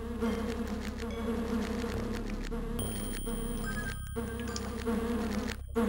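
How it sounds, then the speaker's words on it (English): An insect swarm in the fantasy game Lands of Lore drones in a constant loud buzz over low game ambience, with a few brief tonal effects mixed in. "Oh, here's where all the buzzing's been coming from."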